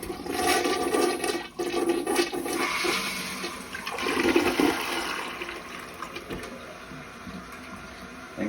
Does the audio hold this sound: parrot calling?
no